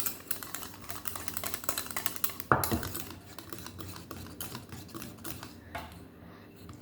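Ghee being stirred in a pan while making pudding, with scraping and clinking of a spoon against metal, irregular taps and one sharp louder knock partway through.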